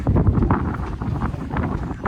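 Gusty wind buffets the microphone with a constant low rumble and roar, loud and close throughout, at night on Alcatraz Island, San Francisco.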